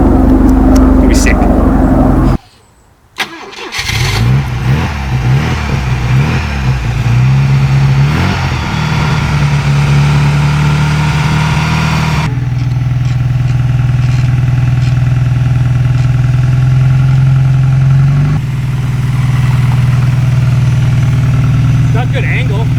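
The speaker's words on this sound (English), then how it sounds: "we will throw it off the trailer and warm it up and then go for a drive." A Volvo twin turbo redblock buggy engine warms up after coming off a trailer, a loud, close, rumbling idle that runs steadily for over twenty seconds with slight changes in pitch, and voices are heard over it.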